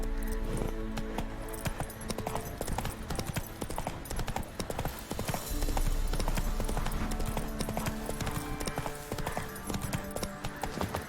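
Horse hooves galloping in the video game The Witcher 3, a fast, steady clip-clop rhythm running throughout with game ambience and occasional faint whinnies beneath.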